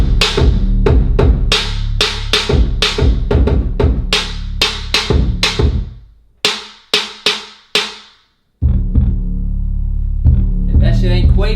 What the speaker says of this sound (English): Your drums gotta knock, the beat gotta bang